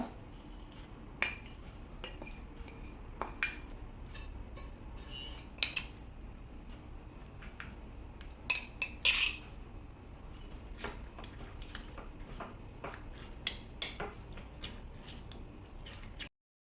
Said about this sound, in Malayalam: അതിനുശേഷം ഈ പാൽ നമ്മൾ എടുത്ത് വെച്ചിരിക്കുന്നത് ഇളക്കുക.